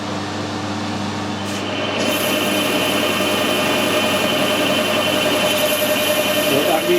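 A lathe takes a heavy cut in plastic, a steady, loud, even whirring drone that holds without a break and grows slightly fuller partway through.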